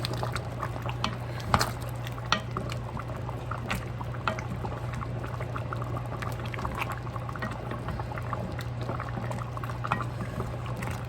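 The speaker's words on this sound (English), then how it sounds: "Yeah, that's boiling." A steady low bubbling and popping of water at a rolling boil, with a constant hum underneath and scattered small plops.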